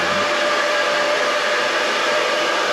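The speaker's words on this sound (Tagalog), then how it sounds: "may maingay na nagbo-blower" A loud blower roars steadily in a Singapore Hilton hotel, a constant broadband whooshing hiss that fills the short stretch close by, with no voices over it.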